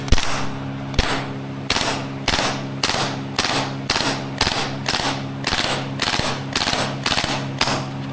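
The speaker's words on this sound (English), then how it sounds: "A quick trigger pull on auto gives you 2 rounds." Maruyama SPC-9 airsoft gas blowback rifle firing in rapid bursts, about a dozen sharp, evenly spaced cracking shots at close range over a steady mechanical hum, with no talking.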